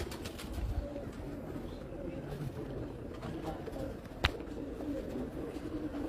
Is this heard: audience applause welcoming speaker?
no